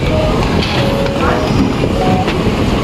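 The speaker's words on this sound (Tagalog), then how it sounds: "sakay na mi green line pa creek nga train" Inside a Dubai Metro Green Line train heading to Creek: a close, continuous rumble and rattle of the carriage in motion, with faint murmuring voices mixed into the noise.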